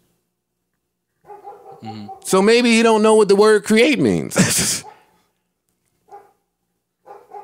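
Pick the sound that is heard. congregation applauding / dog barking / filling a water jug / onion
dog barking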